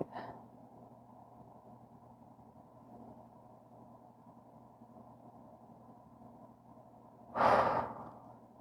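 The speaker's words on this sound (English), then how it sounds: "And breathe." A person breathes during a yoga forward fold: a soft breath at the start, a long quiet stretch over a low steady hum, then one loud, close exhale near the end.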